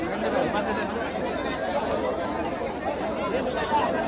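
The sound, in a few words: crowd chatter at Mumbai bullock cart race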